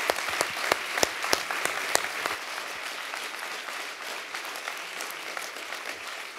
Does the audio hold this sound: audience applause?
yes